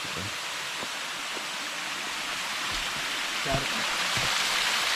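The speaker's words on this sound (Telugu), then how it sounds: "ఇలా వచ్చి ఒక పెద్ద వాగులాగా మాది కోనేరులో నుంచి అటుపోయి జలపాతంలో పడుతుంది" Water flowing in a broad forest stream toward a waterfall in the Nallamala forest, a constant close rushing hiss with faint low knocks and splashes beneath it.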